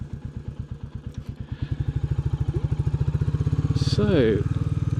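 Royal Enfield Bullet 350 motorcycle thumping steadily while riding, a loud single-cylinder beat whose pulse quickens as it pulls, close up, with a brief voice speaking over it.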